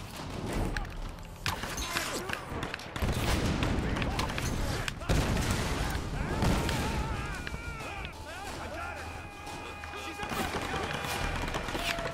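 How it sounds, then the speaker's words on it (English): Gunfire in the Tomb Raider 2013 action game, repeated sharp shots and impacts amid combat noise, with someone talking over the fighting throughout. "Who is shooting at me right now?"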